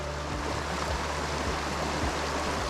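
Running water in a small Maryland creek in winter, deep enough to hold trout: a steady, continuous broadband rush and babble of flowing stream water, close and even throughout, with no voices.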